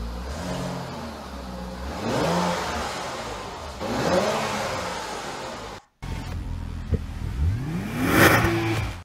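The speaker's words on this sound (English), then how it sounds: "listen to what the stock exhaust sounds on a Q60 Red Sport 400" An Infiniti Q60 Red Sport 400 twin-turbo V6 revs repeatedly through its stock exhaust, rising and falling in pitch with a throaty note, close by in an enclosed space, then one final sharp rev.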